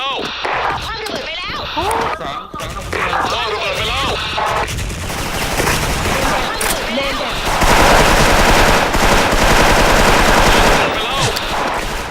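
Rapid automatic gunfire and single shots ring out in a video game, loud and dense bursts stacked over game effects while players talk excitedly.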